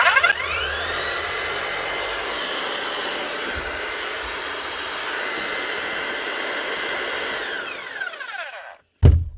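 A repaired Bosch GSH 5 CE demolition hammer with a new motor runs steadily and loudly for about eight seconds, its pitch falling as it winds down, followed by a short thump.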